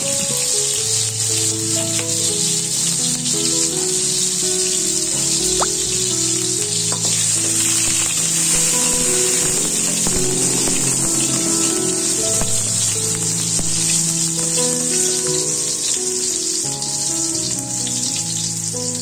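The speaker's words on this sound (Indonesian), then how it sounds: "Goreng bumbu irisan, bawang merah, bawang putih, tomat, dan cabai rawit." Sliced shallots, garlic, tomato and bird's eye chilies fry in hot oil for Indonesian stir-fried bean sprouts, giving a steady, even sizzle throughout, with background music playing over it.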